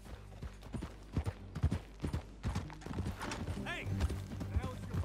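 Galloping horse hooves pound out a quick rhythmic clip-clop in the Red Dead Redemption 2 game, close and prominent, with a brief whinny partway through and low rumbling game ambience underneath.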